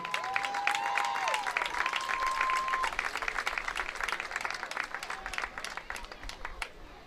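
Audience at a high school Hall of Fame ceremony applauding an inductee, sustained crowd clapping that stays steady and slowly thins out, with a brief whistle-like tone early on.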